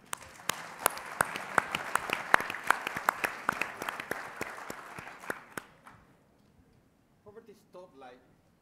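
Audience applause greets a contestant at a think-tank pitch competition event, a dense burst of clapping with sharp individual claps that fades out after about five seconds, followed by brief quiet talk.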